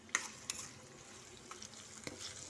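Onions frying with salt in a pan make a faint, steady sizzle, with a few soft clicks of stirring scattered through. No voices.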